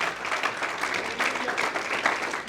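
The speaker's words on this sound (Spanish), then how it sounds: "Denle un aplauso a nuestro Dios." Congregation applauding during a Spanish-language church service, a steady dense patter of many clapping hands filling the room, moderately loud with slight swells, no talk over it.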